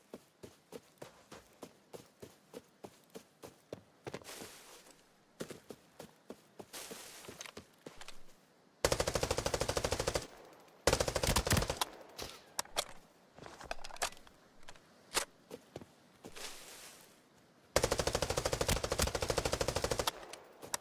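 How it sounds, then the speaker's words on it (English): Rapid bursts from an ML rifle in a tactical shooter game, early single shots and footsteps giving way to long loud automatic strings fired mag by mag, close and sharp. "He's using an ML rifle."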